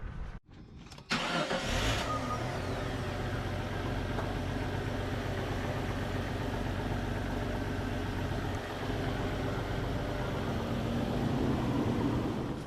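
A Jeep Cherokee XJ engine, freshly tuned with new spark plugs, wires, cap and rotor, cranks briefly and catches, then settles into a steady, even idle heard close up.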